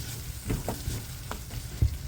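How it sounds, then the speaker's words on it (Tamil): Masala spices fry in hot oil for a spicy oats chilli chapati, a steady low sizzle with a few soft stirring clicks and scrapes close by, no voices. "எண்ணெயிலே வந்துட்டு இந்த பாருங்கள் மசாலாலாம் வதக்கிட்டேன்."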